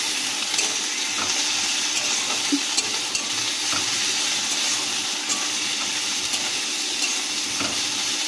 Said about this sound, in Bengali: দিয়ে আদা রসুন ভালো করে ভেজে নেব